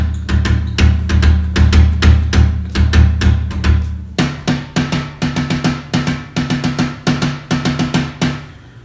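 A Ludwig Breakbeats drum kit with quiet Remo SilentStroke mesh heads played in a steady groove, muted thumps and taps with kick hits, no talking.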